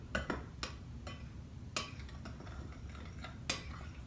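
Pound cake batter with extracts is stirred in a bowl for an apricot brandy cake, giving quiet irregular clinks and taps of a utensil against the bowl over a low background hum.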